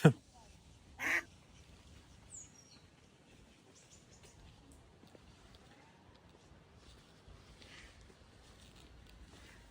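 A couple of brief, faint quacks from ducks early on, then quiet outdoor background in Odesa with soft movement and distant voices.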